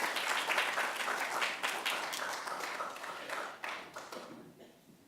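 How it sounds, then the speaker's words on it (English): Audience applause closes a flash fiction reading, a dense wash of many hands clapping at close range, holding steady for several seconds before thinning out near the end. "Let's give all of our readers one more round of applause"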